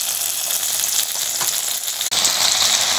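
Noodles tossed with garlic tomato sauce and oyster sauce in a hot pan, a loud, dense, continuous sizzle with a brief dropout near the end, close up and without any voices.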